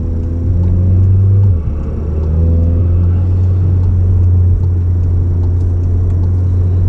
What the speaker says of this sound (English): you get a much better spool of the turbo because there's less back pressure